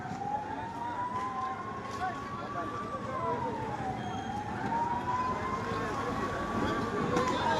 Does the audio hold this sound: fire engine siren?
yes